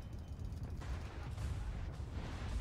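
Secondary guns of the IJN Kii, a premium Tier 8 Japanese battleship in World of Warships, fire in dense rapid volleys against an enemy Lion. The booms blur into a continuous low rumble of gunfire.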